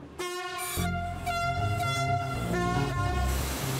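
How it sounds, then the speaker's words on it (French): Trains at a French railway station by the sea, a loud sustained horn blast with layered tones over rumbling wheels and squealing rail noise, continuous and close. "Grincement, sifflets, soupirs des machines, on vit ici comme dans un hall de gare."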